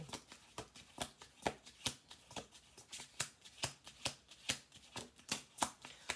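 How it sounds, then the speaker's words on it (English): Cards are shuffled repeatedly, a steady series of crisp riffling bursts close by, each a quick flutter, with no talking. "We're going to do one more shuffle."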